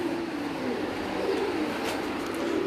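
Breeder pigeons coo softly in a steady low murmur on a rooftop, close by, with faint background noise and no clear talk.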